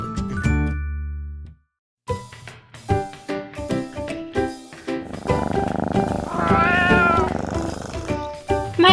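A cat meows, a drawn-out toy-like cry among a string of short musical chimes and animal sound effects, loud and near, with a brief silence early on.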